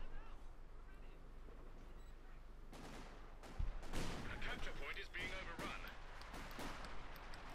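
High explosive artillery shells bursting in Company of Heroes 2, a cluster of heavy booming impacts and crackling blasts in the second half following quieter battle noise, with a voice talking over the action.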